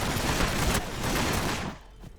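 Rapid bursts of gunfire from Astra Militarum and Ork units fighting in Warhammer 40000 Battlesector, dense and continuous before fading out near the end.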